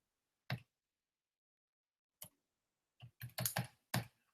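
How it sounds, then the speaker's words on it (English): Calculator keys are tapped to enter numbers, giving a handful of quiet, crisp clicks: one, a pause, another, then a quick cluster of presses close together. "I'm just typing all this in on the calculator."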